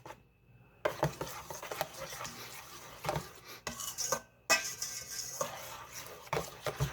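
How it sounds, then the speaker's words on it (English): Lemon loaf batter being mixed by hand in a bowl, giving a scraping, stirring rhythm with soft clinks of utensil against the dish, fairly close and steady with brief pauses. "we just want to mix this together"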